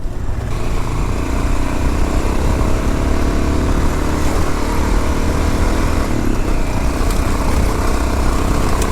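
A motorbike engine runs continuously while it is ridden on an offroad trip on a Greek island. The engine gives a loud, close, steady rasping drone with small fluctuations and no pauses.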